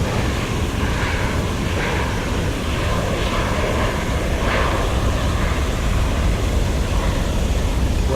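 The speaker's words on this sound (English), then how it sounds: "reverse thrust" Airliner engines roaring in reverse thrust just after touchdown on landing at Salt Lake City, a loud, steady broadband rumble with rising swells that fills the whole stretch without pause.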